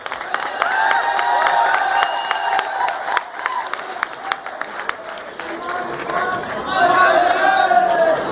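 Audience at a Hindi poetry recital for Diwas at FDDI Rohtak, clapping and cheering in a lively, uneven burst with crowd chatter and a voice speaking over it, swelling again toward the end.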